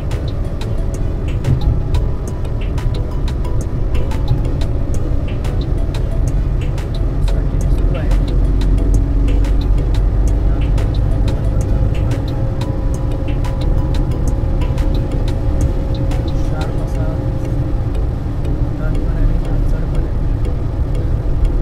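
A car driving on a smooth internal road along the Mumbai–Goa highway route, with a steady, close engine and tyre rumble throughout and faint ticking on top.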